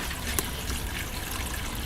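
Water runs steadily down a small gold prospecting sluice fed from a screen and pipe, making a constant close hiss and trickle with one brief splash, with no talking.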